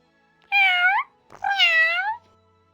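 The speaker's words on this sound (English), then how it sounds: "Meow. Meow." Cat meowing in a video game, two clear, fairly loud meows in quick succession with a short pause between them and otherwise quiet surroundings.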